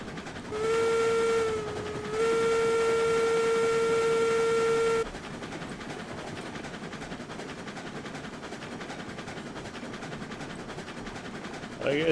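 A Class 70 locomotive hauling a tanker train in the RailRoads Online game sounds a loud steady two-tone horn in two long blasts, then the engine rumbles on alone under steady running noise.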